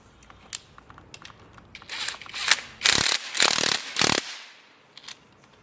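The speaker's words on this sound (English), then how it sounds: "Use an M10 socket to remove the two mounting bolts on the front brake" An M10 socket wrench on a ratchet backs out the front brake caliper mounting bolts on an Xpro bike, producing a few close, loud bursts of pawl clicking after quieter scattered clicks.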